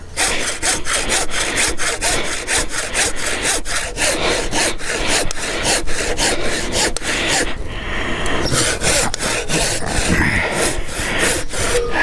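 A hand saw cutting timber for a clapper stile gate in quick, regular back-and-forth strokes, close and loud, with a brief pause midway before the rhythmic rasping resumes.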